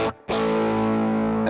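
A brief pause, then an electric guitar chord rings out through a Klon overdrive pedal with warm, gritty overdrive, sustaining steadily for over a second.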